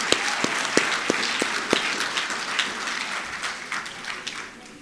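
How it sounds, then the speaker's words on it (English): Audience at a University of Johannesburg tribute for Prof Marwala breaks into sustained applause, dense clapping with a few sharper individual claps standing out, fairly close and steady throughout. "And let's clap for Prof Marwala."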